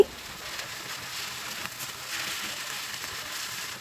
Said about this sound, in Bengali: যেহেতু এই মাছটাকে আমি ভাজিনি, এই তেলের সাথে আগে আমি ভাজা ভাজা করব অনেকটা সময় নিয়ে।